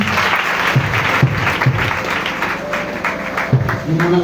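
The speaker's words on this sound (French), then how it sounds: "Acclame le Seigneur Jésus" A church congregation applauding in acclaim of Jesus at a year-end celebration service, a dense, loud wash of clapping with some crowd voices mixed in.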